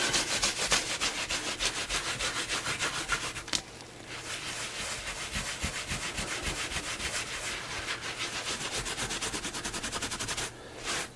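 Finish being rubbed into a Tandy leather travel journal cover, a steady, rapid back-and-forth scrubbing close by that pauses briefly partway through, then resumes.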